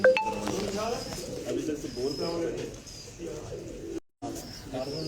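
Soft pigeon cooing rises and falls throughout, mixed with murmuring voices nearby and a brief dropout near the end.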